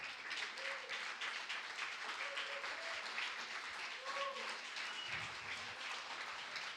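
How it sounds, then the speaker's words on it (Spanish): A church congregation applauds loudly during a worship service, steady broadband clapping throughout, with voices and brief tones mixed under it. "Un aplauso fuerte para Él."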